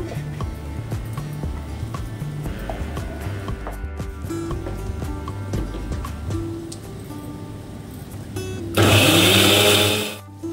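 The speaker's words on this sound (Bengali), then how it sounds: "তো দেখো এবার নিয়ে নেবো মিক্সিতে রসুন, কাঁচা লঙ্কা আর নিচ্ছি আদা। ওকে, মিক্সিতেই পেস্ট করে নেব।" An electric mixer grinder blends garlic, green chili and ginger into paste, whirring loudly for about two seconds near the end after quieter kitchen clatter and handling.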